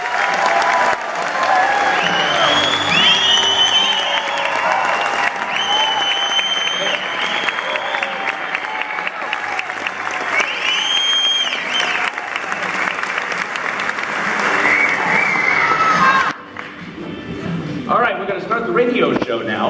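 A crowd applauds loudly and steadily to welcome Wisconsin Governor Scott Walker at a live radio show event, with dense clapping sustained for about sixteen seconds before thinning out near the end.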